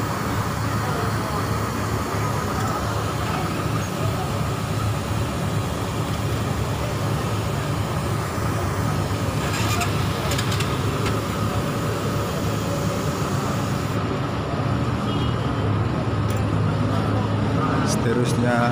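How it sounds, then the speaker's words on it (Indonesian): A long-distance intercity bus arriving from Medan at the ALS bus ticket office in Padangsidimpuan at night: a continuous loud engine rumble and road noise, with some background commotion. "Bus ini baru tiba dari Medan."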